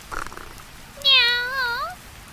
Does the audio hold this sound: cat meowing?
yes